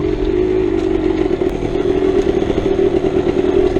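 A GasGas EC300 dirt bike rides along single track with a steady, loud two-stroke engine drone and some rattling clatter, close to the rider, with no voices.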